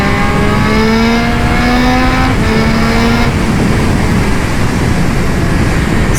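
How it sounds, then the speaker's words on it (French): Triumph Speed Triple 1200 RS roadster motorcycle accelerating hard, its engine note climbing through gears with rising whine and a shift break, loud and close amid heavy wind rush. "Allez, on va accélérer un petit peu."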